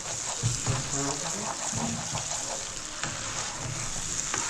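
Chicken chaap frying in a pan gives a dense, continuous sizzle and crackle, with a faint voice murmuring underneath.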